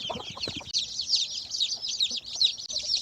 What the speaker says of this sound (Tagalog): naka-brooding na yung ating mga panibagong sisiw dito